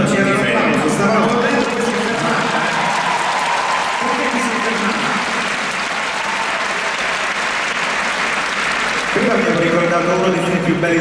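Sustained concert audience applause at a live show in Rome, a dense steady wash of clapping that fills the whole stretch, with a brief dip midway and a voice rising over it near the end.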